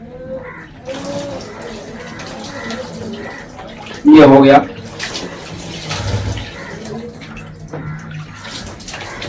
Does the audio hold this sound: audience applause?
no